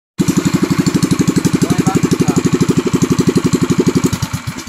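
A small engine idles steadily up close, its rapid, even putter loud and continuous from start to finish.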